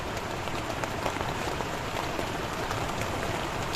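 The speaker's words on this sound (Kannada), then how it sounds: "ಮಳೆ ಬರ್ತಾ ಇದೆ" Steady, heavy rain patters densely on a surface at a campsite beside a waterfall in dense forest, a continuous even hiss with no voices.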